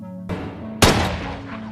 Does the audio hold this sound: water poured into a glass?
no